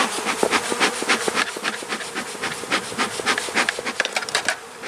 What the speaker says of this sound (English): Ooh, lots of bees. Lots of bees.